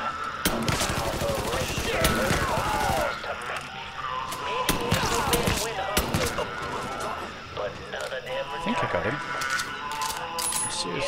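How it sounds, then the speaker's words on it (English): Rapid bursts of gunfire from a rooftop shooter in the video game Mafia 3, crackling shots and clattering impacts in dense, uneven volleys, with game noise throughout. "I can see the gunfire. I can't see where it's coming from."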